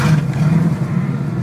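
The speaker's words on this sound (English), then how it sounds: "Turn the key and she starts." A 1990 GM Chevy engine catching on the key and settling into a rough, loud idle close by, with a brief rev at the start and no talk.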